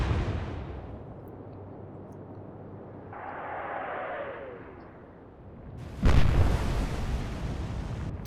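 A heavy cruiser's naval guns fire in the World War II naval strategy game Atlantic Fleet, a sudden loud blast near the end, preceded by a low rumble and a rising whistling shell sound.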